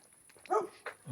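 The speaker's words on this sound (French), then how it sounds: "il y a un chien qui est pas content" A single short dog bark sounds out, faint and somewhat distant, with a softer yip just after it against a quiet background.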